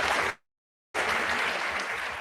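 An Oxford debate audience claps hard and continuously, a dense roar of many hands that breaks off into a brief silence and then surges back at full strength.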